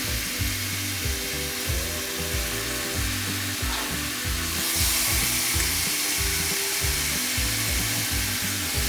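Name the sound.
beef sizzling as it fries in a pan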